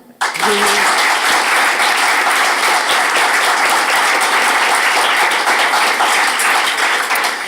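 Sustained, loud applause from an audience welcoming a panel at an elder LGBTI+ community event, starting abruptly after a brief voice and continuing steadily without a break.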